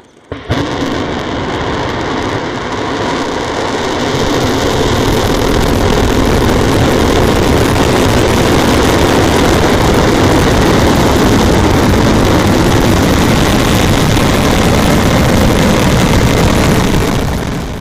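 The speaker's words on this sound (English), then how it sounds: "Long March 2D rocket launching from Xishang carrying an Internet Constellation demonstration satellite" A Long March 2D rocket lifting off from Xichang, a sudden onset followed by a loud, continuous deep roar that stays steady and broad for the whole stretch, with no talking.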